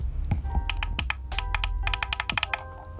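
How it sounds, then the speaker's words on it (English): Macro button on an EKSA EM600 gaming mouse clicked repeatedly, crisp close-up clicks that come singly at first and then in a faster run. "This has a really satisfying click to it, and it's very sensitive."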